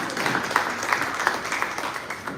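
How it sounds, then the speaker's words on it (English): An audience at a school event gives a round of applause to welcome a guest judge, a steady patter of clapping at moderate distance, with no talk over it. "I welcome him with a great round of applause"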